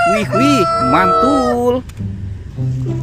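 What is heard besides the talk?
rooster crowing from a toy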